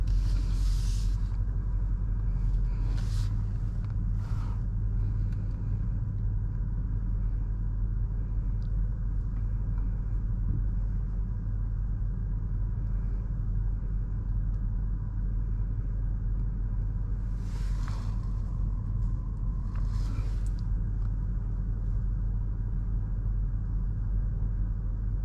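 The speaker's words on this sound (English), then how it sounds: "So you might feel the front wheels kind of locking and unlocking. That's the ABS system at work, bringing you down nice and safely." A BMW X5 M60i creeps down an off-road dirt hill with ABS engaged, giving a steady low rumble of engine and tyres throughout, with a few brief scraping bursts near the start and again toward the end.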